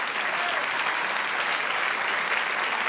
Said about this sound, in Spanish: Dele aplauso.